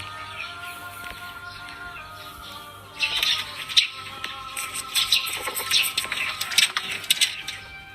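Seven-month-old Thai fighting cocks squawk and call in a cluster of sharp, loud bursts from about the midpoint onward, following a quieter stretch of background noise with no voices.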